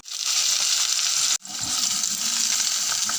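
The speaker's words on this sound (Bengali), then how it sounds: "তেজপাতা, শুকনো লঙ্কা আর গোটা গরম মশলা ফোড়নে দিয়ে দিলাম।" Bay leaf, dried chillies and whole garam masala hit hot oil as the tempering for a Bengali chicken kosha, giving a loud, continuous close sizzle that breaks off for a moment and then resumes.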